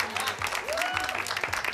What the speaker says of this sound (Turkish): Vallahi ilk defa alkışlar gibi alkışlıyorsunuz siz de ya.